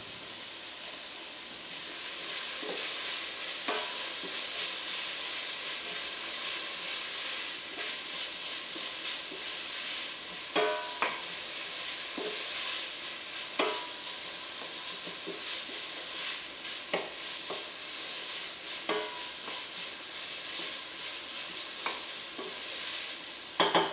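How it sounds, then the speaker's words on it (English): Chilli and garlic fry in a hot pan for a winter bean and halloumi stew, a steady bright sizzle with occasional stirring clicks and spits, fairly close and continuous, no voices. "we're just going to add our chilli and our garlic. We're going to cook that for about 30 seconds to a minute"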